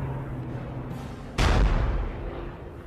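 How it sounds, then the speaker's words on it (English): A German 88mm artillery gun fires one loud, sharp blast that rolls away into a long, fading boom over a low background rumble. "88mm German guns pounded the British armour."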